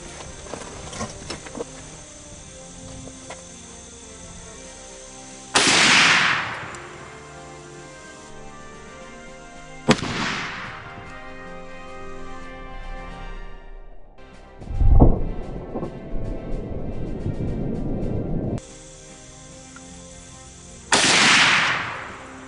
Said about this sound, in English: I've loaded 5 rounds, so let's take 5 shots and check out the group.